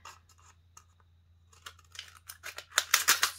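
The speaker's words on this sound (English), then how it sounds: "you can take your scissors and choose a spot on the can to slice right through" Scissors slicing through a thin aluminium drink can, a series of scratchy metallic snips that start faint and grow louder and harsher toward the end, close-up with no talk.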